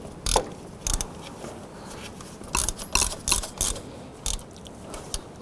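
Ratchet clicking in short bursts while snugging up the upper bolts of a water pump on a 2007-2011 Honda Civic, close and fairly quiet with pauses between strokes.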